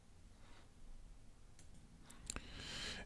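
A single soft mouse click on the Preview button in the Chamilo LMS e-learning platform, a brief sharp tick near the end over a quiet, faintly hissing room.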